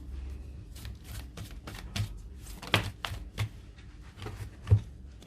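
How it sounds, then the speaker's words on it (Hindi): Tarot cards are shuffled and drawn in a series of soft, close riffles and slaps, spaced irregularly with quiet pauses between them. "कुछ और थोड़े कार्ड्स निकालते हैं।"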